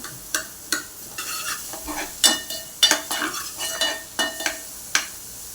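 Onion being stirred and sautéed in a pan for egg ghotala, a steady sizzle broken by sharp scrapes and clinks of a spatula against the pan, close and fairly loud, with no talking.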